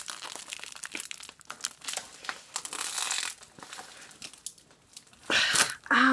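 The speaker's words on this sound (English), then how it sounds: "Look how much bubble wrap this is, and the bubble wrap's taped." Taped bubble wrap is pulled off a mailed package: a run of loud crinkling, crumpling and tearing plastic. A sharper rip follows near the end, and brief voice sounds come through in places.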